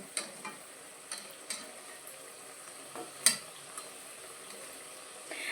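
Soft, steady sizzling of fritters frying in hot oil, with scattered small pops and crackles rising now and then.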